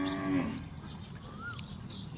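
A young buffalo calf lets out one short, close moo at the start, kept at home on a rainy day, followed by quiet and a few faint bird chirps.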